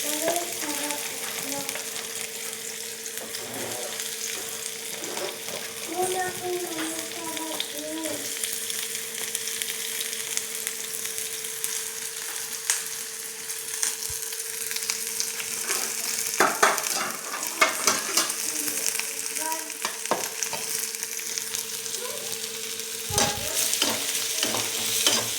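Onion and dried red chilies fry in oil until browning, a continuous close sizzle with a faint steady tone underneath and bursts of utensil scraping and stirring, louder clatter in the latter part.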